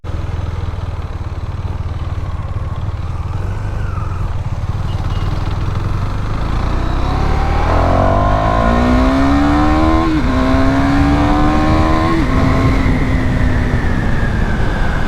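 A KTM Duke 390 motorcycle engine drones steadily up close with wind rumble, then revs up in a few rising pulls toward the end.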